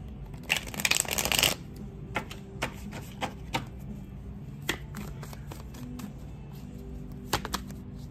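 A deck of tarot cards gets shuffled with a quick burst of riffling flutter up front, followed by scattered soft taps and clicks of cards being handled and set down, close and fairly quiet.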